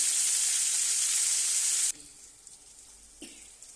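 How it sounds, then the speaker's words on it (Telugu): Loud, close sizzling of eggplant frying in hot oil fills the first two seconds, then cuts off to quiet with a light clink. "ఆయిల్లో బాగా వేగాలి వంకాయలు"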